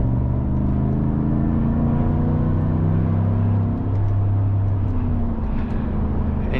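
A 2019 Chevrolet Silverado pickup accelerating in third gear, a loud, steady, deep engine drone with a slowly shifting pitch and no speech.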